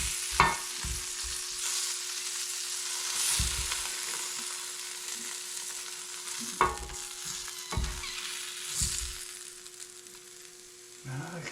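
Sausages fry in an Elite Gourmet electric skillet with a steady, soft sizzle, broken by a few louder clatters of a utensil stirring or turning them.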